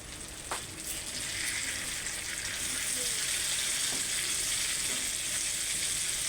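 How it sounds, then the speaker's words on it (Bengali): Pumpkin slices fry in mustard oil with a steady, close sizzle that settles into a continuous hiss after a brief clatter at the start, with no voices. "মিষ্টি কুমড়াকে সরিষা তেল দিয়ে খুব ভালো করে ভেজে নিতে হবে"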